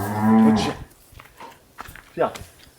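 A cow in a farmyard by a barn lets out one loud, close moo, followed by quieter shuffling and faint scattered sounds, with another brief low call near the end.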